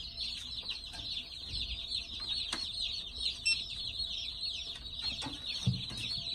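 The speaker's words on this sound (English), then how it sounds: "It's a bunch of chickens" Chickens clucking and murmuring together in a steady, busy chorus, fairly close, with a constant high bird chatter throughout and no talking.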